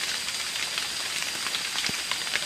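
Rain falling steadily at night, a dense continuous hiss of drops with scattered louder patters close by, with no voices.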